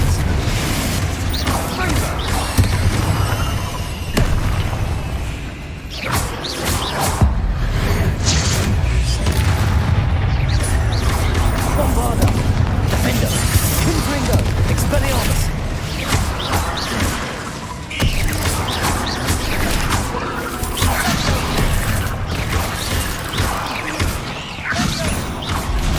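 Spell explosions in the video game Hogwarts Legacy, a dense, continuous run of booming blasts, crashes and magical impacts from repeated combat spells, loud and layered, with a voice speaking over the action.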